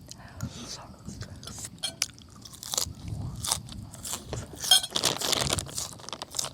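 Someone crunches crispy fried pork crackling dipped in chili paste, close to the mic. Loud crisp bites and chewing repeat throughout, with soft whispered talk mixed in.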